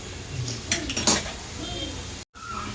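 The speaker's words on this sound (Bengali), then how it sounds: "তো তেলের মধ্যে আলু ছেড়ে দেওয়া হয়েছে" Potatoes fry in hot oil in a pan for a Marathi val bhaji, with a steady broad sizzle and a few clinks of a utensil against the pan, followed by a brief dropout near the end.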